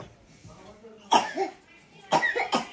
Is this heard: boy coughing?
yes